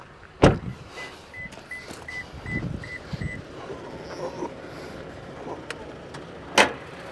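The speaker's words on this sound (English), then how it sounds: "Let's pop the hood, see if anything's changed under there." The hood of a 2023 Toyota Tacoma TRD Pro is opened, starting with a sharp latch clunk, then faint creaks and mechanical rustling, and ending with another solid knock. The sounds are close, with no talking.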